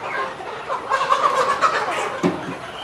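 Chickens in a large Tiger-breed poultry farm in Jamalpur cluck and squawk close by in a busy, overlapping burst, ending with a sharp knock; no speech.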